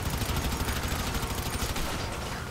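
Rapid bursts of gunfire in GTA 5 Online, loud and continuous with fast repeating shots that thin slightly toward the end, no speech over them.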